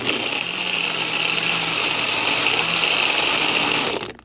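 A blender whirs steadily while mixing a peanut butter chocolate banana vegan milkshake with ice, a dense, even motor roar running for about four seconds before cutting off abruptly.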